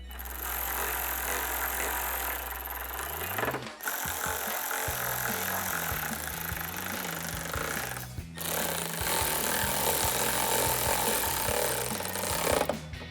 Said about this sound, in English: And then we'll take our 10 millimeter socket and tighten all of these down.